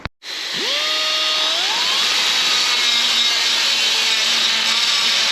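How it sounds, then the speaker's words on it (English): A pneumatic die grinder cleaning metal during equipment repair hisses on, spins up with a rising whine, then holds a loud, steady high-pitched scream for several seconds. "But for stuff like this, I still don't think you can beat a good old fashioned pneumatic die grinder."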